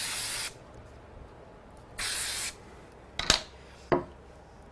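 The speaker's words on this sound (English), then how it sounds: "I'm going to give it a quick spray" A spray can gives two short hissing bursts, each about half a second, followed by a couple of sharp clicks in a quiet room.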